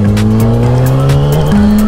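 Suzuki GSX-R 750 sport motorcycle engine revving hard under acceleration, a loud, close, buzzing tone climbing in pitch, dipping briefly at a gear change and rising again.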